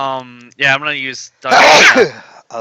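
A person sneezes once loudly and close, a sharp burst in the middle of casual talk around a tabletop role-playing game session.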